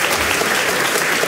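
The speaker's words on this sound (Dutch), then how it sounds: "Heel hard applaus even voor dit debat." A crowd at a national student debate competition claps hard and loud in a brief, dense burst of applause.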